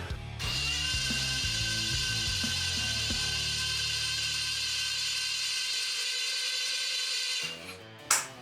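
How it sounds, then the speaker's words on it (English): A ratchet turns over a 1982 Harley-Davidson Shovelhead engine by hand, a close, steady run of rapid clicking with rhythmic pulses that stops near the end, followed by a brief clunk. "I'm just gonna rotate it over a few times just to make sure that the oil hasn't settled"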